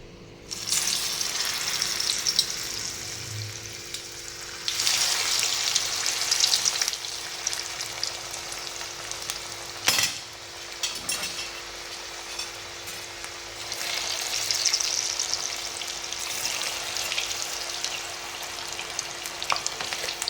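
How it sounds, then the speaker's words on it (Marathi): Hot oil hisses and sputters in waves as taro leaf rolls (alu vadi) deep fry, swelling louder and then easing back, with one sharp tap partway through. "तेल चांगलं तापलेलं आहे आपण आता वड्या तळून घेऊया"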